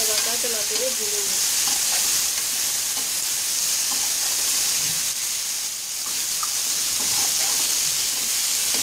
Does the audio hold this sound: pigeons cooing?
no